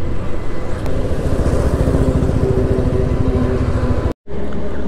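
A motorcycle rides along the road, its engine droning loud and steady with wind rumble throughout, briefly cutting out near the end before resuming.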